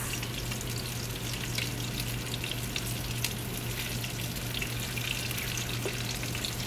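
Tiny meatballs browning in a frying pan give a steady, even sizzle that holds unbroken from start to finish, with faint stirring clicks and no talking.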